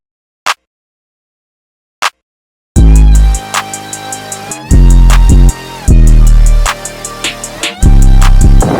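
A slap clap sample hits sharply and repeatedly within a loud trap beat, after two isolated opening hits, over heavy bass and hi-hats.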